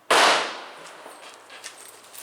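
A single sharp gunshot cracks out at a shooting range with an MP H&G 50 hollow base or MP-148 hollow base bullet, loud and close, followed by a fading echo and quiet room tone.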